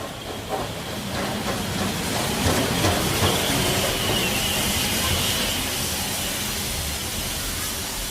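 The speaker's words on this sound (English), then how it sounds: "The train puffs down the track." An old steam train chugs along the track with a continuous hissing rush of steam and rolling rail rumble, fairly close and steady from start to finish.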